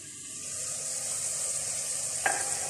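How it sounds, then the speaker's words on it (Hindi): Masala for mutton liver with garlic frying in oil in a pan gives off a steady, even sizzle at moderate volume, broken once by a single faint clink near the end. "मसाला बहुत अच्छी तरह से भून चुका है और किनारों से इसके ऑयल भी निकला है।"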